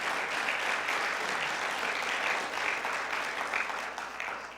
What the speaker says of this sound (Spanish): ¿Puedes darle un aplauso de alabanza a Él?